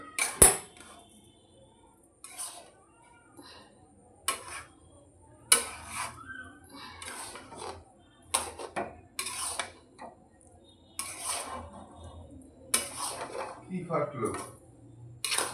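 Spoon or spatula scraping and clinking against a metal pot while mixing food for Basonti polao, in intermittent strokes of moderate loudness with household background.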